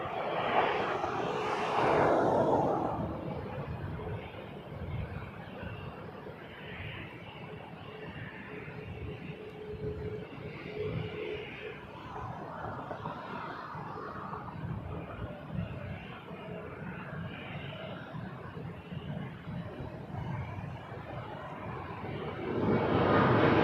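An EVA Air Dreamliner jet lands on runway 24 left at Toronto Pearson, its broad engine roar steady and fairly loud for the whole stretch and swelling again near the end. No voices are heard.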